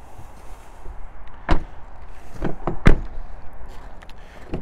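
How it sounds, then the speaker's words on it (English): The driver's door of a Ford Ranger Thunder double cab pickup opens with several sharp latch clicks and clunks, including one loud thud, over a quiet background. "opening up the driver's door now."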